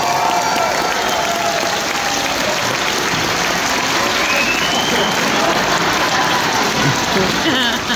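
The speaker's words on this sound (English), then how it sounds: "So could you just give the technical people a big round of applause" A large holiday-camp crowd at Butlins Skegness applauds and cheers loudly, a dense, roaring wash of clapping and shouts that stays steady throughout.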